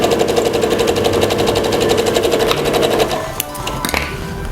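A sewing machine runs steadily while stitching the shoulder seam of a dress, a loud close mechanical rattle that slows and stops near the end.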